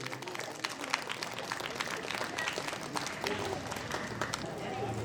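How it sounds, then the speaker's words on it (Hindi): An audience at a Christmas gathering and annual program applauds in honor of local residents, a thick, continuous patter of many hands, fairly quiet and distant, with crowd voices murmuring through it. "एक बार जोरदार तालियां हो जाए हमारे जसार के प्रत्येक निवासी के लिए"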